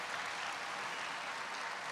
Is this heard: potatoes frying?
no